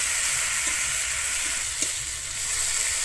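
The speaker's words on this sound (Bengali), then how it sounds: "মশলাটা দিয়ে কিন্তু আমি এক মিনিটের মতো এখানে কষিয়ে নেব" Ground cumin, dried red chilli and ginger paste sauté in a pan for a Bengali koi fish curry with taro, giving a steady, close, dense sizzle and hiss with a faint stir partway through and no talking.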